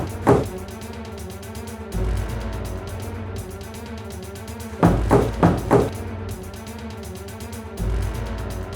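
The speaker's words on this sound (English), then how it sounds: "A knock. Did you hear that?" Sharp knocks sound inside a house during a paranormal investigation, a single knock early on and then a quick cluster of three or four, set against a steady background drone.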